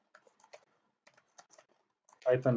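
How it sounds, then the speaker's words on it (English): Soft, sparse keystrokes on a computer keyboard, a few isolated taps and short clusters in a quiet room, ending as a voice begins talking. "in this window just type in Python"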